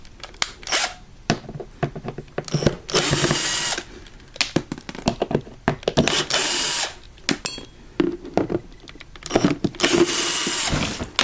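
A power drill backs screws out of the cover of a Challenge ME1031M lawnmower in short whirring bursts of about a second each, separated by quieter clicks and handling noises.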